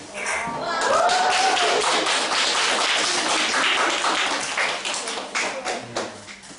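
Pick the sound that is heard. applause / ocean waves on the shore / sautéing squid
applause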